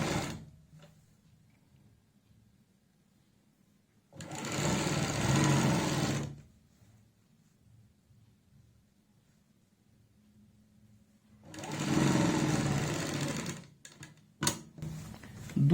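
A sewing machine stitches a seam on a salwar in two short bursts of about two seconds each, close and fairly quiet, separated by silence, with a few clicks at the end.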